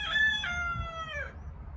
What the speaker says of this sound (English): I think I got 1 or 2 roosters too many around here